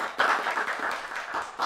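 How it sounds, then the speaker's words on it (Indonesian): Brief clapping in a podcast studio, a short burst of applause from a few people lasting under two seconds. "Tepuk tangan"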